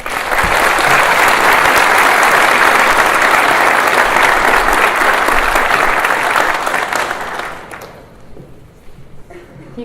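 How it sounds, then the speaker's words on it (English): Audience applause at a high school National Honor Society induction ceremony: loud, dense clapping from a large crowd that holds steady for several seconds, then fades away toward the end. "Please join me with a round of applause"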